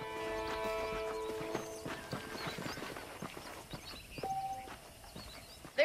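Horse hooves clip-clop in the Western video game Red Dead Redemption, a rhythmic run of clear hoof strikes at moderate distance, accompanied by a brief whinny and faint background game tones.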